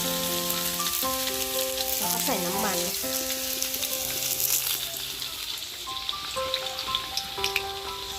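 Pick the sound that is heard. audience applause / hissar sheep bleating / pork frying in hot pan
pork frying in hot pan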